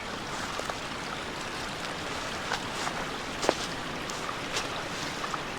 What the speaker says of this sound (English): It'd be great to hear the sound of the water as you're camping out overnight